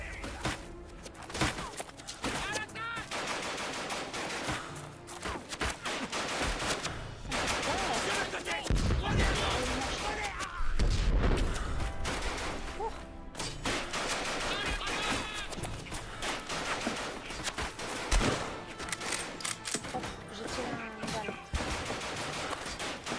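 Gunfire crackles in a WWI trench video game, dense bursts and rapid machine-gun volleys at mid distance, with game sounds and occasional voices mixed underneath.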